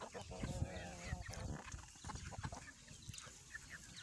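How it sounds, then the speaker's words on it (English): Chickens in a farmyard cluck and squawk excitedly at feeding time, several birds overlapping in busy, fairly close chatter with no talking. "all the chickens, everybody thinks they're going to get food"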